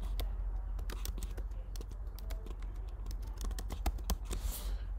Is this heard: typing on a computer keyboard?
yes